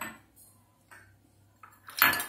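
Potatoes mashed in a steel pot or bowl for an aloo paratha filling, giving a few soft scrapes and then a louder clatter of metal utensil against the dish near the end, with no talking.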